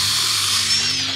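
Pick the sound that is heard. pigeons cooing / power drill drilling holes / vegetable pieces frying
power drill drilling holes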